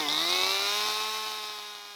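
A chainsaw is used to cut heavy timber for a treehouse platform. It gives a loud, close engine whine that rises in pitch and then holds a steady, buzzing drone.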